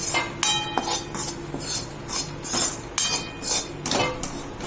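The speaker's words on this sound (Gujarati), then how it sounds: "પછી ચમચેથી હલાવશું" A metal spoon stirs a ghee and flour mixture for ladoos in a pan, giving a run of sharp, rhythmic clinks and scrapes roughly every half second.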